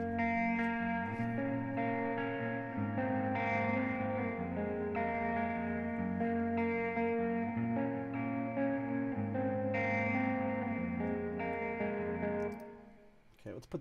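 A melodic guitar part heard dry, without the Tape Wobbler pitch effect, playing steady sustained notes at an even level before tapering off at the close.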